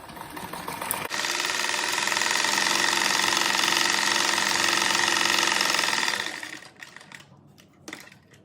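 A sewing machine stitches a simple cat-shaped fabric door stopper, running in one loud, continuous, steady whir for about five seconds before stopping, followed by a few soft handling clicks.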